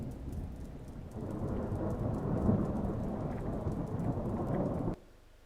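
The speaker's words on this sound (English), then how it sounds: "So thunderstorm, just by clicking on the capabilities." Simulated thunderstorm weather effect over a Singapore city-centre scene on Shenton Way: steady loud rain hiss with deep rolling thunder rumble throughout, swelling midway, then cutting off abruptly near the end.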